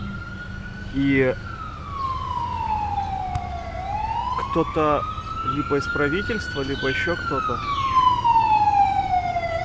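Police car sirens wailing and rising and falling as a motorcade approaches on a road in Phuket, Thailand, loud and steady with traffic noise, while someone talks over them.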